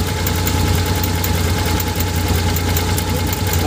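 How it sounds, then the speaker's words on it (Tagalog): A 4WD vehicle's engine idles steadily with a faint knocking in its running, a close, continuous mechanical drone with no talk over it. "huwag mo lang patayin ng makina kasi may sound"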